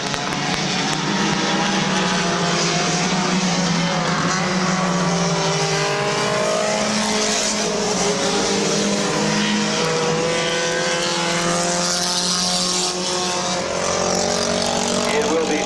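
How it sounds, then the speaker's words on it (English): Compact race cars at Midvale Speedway roar around the oval in a 2012 race, engines droning and revving continuously with rising and falling pitch as cars pass, loud and dense, with an announcer talking over the pack. "6 laps in, 6 laps to go this time for the number 5 of Max McCartney"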